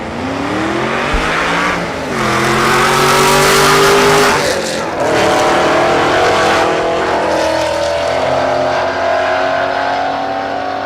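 A Ford Mustang drag race car at Texas Motorplex accelerates hard down the strip, its engine note climbing in steady rising harmonics with a brief shift dip, loud and close, with a faint voice underneath.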